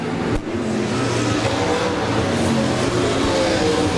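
Sprint cars racing at Humboldt Speedway in Kansas during an OCRS Sprint Series event, a sustained loud roar of engines revving and passing on the dirt oval, with a brief sharp crack near the start.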